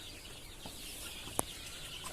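Young chicks in a coop during cold winter weather give faint, sparse clucks, with one brief, sharper call standing out over a quiet background.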